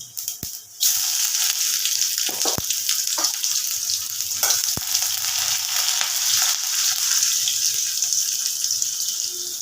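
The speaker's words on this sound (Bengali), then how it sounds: "তেলটা গরম করে নিয়েছি এবার আমি এখানে একটু জিরে ফোড়ন দেব অল্প একটু এবার আমি একটু পেঁয়াজ দিয়ে দেবো" Cumin seeds and onion hit hot oil in a pan for mung and masoor dal, setting off a loud, steady sizzle that starts after a brief quieter moment and runs continuously, with a few soft clicks on top.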